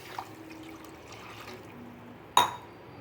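Coconut milk and water are poured into a pot of chicken leg piece biryani, giving a soft steady liquid trickle followed by a brief louder splash near the end, close by with no talking.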